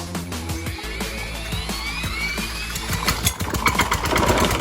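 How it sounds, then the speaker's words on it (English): Small gas engine driving a homemade giant blender, revving continuously and climbing in pitch as it runs away faster and faster, a loud rising whine over a rattling mechanical drone. "As the motor started to run away and get faster and faster"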